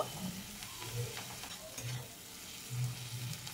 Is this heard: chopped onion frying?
yes